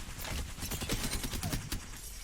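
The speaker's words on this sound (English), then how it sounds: "we're going to fire the L-Star until it overheats" An L-Star energy gun in Apex Legends fires continuously until it overheats, giving a dense, rapid, steady stream of shots with no pauses, heard fairly quietly.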